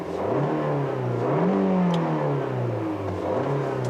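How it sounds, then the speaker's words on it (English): A 2017 Fiat 500 Lounge's 1.4-liter MultiAir four-cylinder engine running close up, a steady mid-pitched drone whose pitch drifts gently up and down, with no talking. "And what you're hearing is the base engine."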